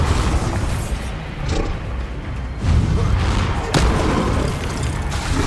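Booming blasting-spell explosions from the video game Hogwarts Legacy, a dense barrage of heavy thuds and rumbling bursts layered over one another, loud and continuous.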